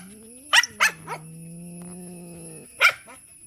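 A dog gives a few short sharp barks and yips, then a low sustained growl-like whine, followed by one more bark; close and clear with no talking.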